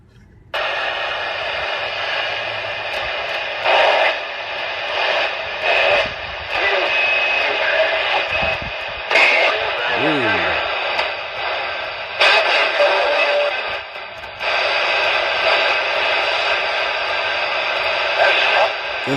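Noisy CB radio static hisses on channel 20, loud and continuous, with abrupt breaks and shifts as the signal cuts in and out, and faint garbled transmissions come through the noise.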